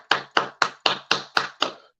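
Seven sharp hand claps at a steady, fairly quick rhythm, close and clear, with no voices over them.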